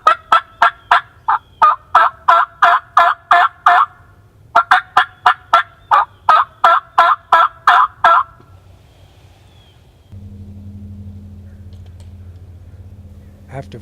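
Wild turkeys gobble from the roost in loud, rapid bursts, two clustered volleys of repeated calls over about eight seconds, followed by quiet and then a low steady hum.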